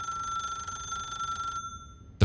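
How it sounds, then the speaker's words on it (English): Telephone bell ringing steadily in a quiet room, a continuous electronic trill that cuts off abruptly near the end, followed by a brief low thump. "The phone rang."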